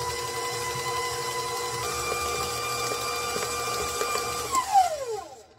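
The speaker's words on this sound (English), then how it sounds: "We're creaming the butter, the sugar, and the shortening together." An electric mixer creams butter, sugar and shortening with a steady whirring motor hum, then winds down in falling pitch as it is switched off near the end.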